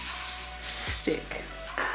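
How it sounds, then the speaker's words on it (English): Cooking spray hisses from a can over a brownie slice in a baking tin, a close, loud burst followed by shorter sprays, with a voice speaking briefly partway through. "I'm going to give it another quick spray so that the slice itself doesn't"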